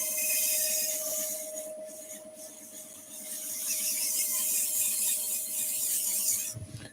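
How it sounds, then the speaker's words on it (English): Wire brush scrubbing a wooden turned spinning top as it spins on a lathe, a steady rasping hiss with a constant machine hum beneath, continuous and close for several seconds. "Okay, so a little bit of wire brushing."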